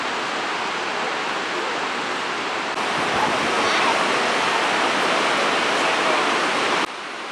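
Whirlpool Rapids below Niagara Falls, Canada, a broad, steady rush of churning whitewater, loud and constant, swelling slightly midway before dropping off at the end, with no voices.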